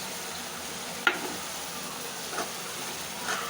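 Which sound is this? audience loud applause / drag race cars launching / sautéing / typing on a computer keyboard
sautéing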